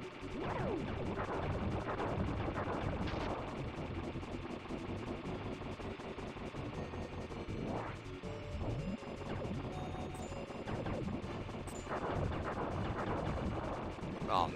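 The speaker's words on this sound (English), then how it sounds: "it's shooting out bombs, it's shooting out blasters, it's shooting out cannons" A battleship in the Star Fox 2 video game fires bombs, blasters and cannons, a dense, continuous barrage of booming blasts and crackling explosions that stays loud and busy throughout with no pauses.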